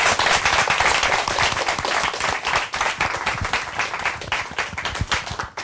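Applause from a studio audience at a Korean talk show lecture, dense and steady clapping throughout with a slight thinning toward the end, no voices over it.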